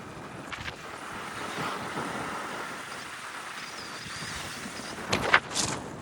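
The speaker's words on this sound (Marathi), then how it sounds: "बेकार वारा चालू" Strong wind gusts across the open reservoir at Arjun Sagar dam, a steady roaring buffet on the microphone with brief louder bursts near the end and no talk.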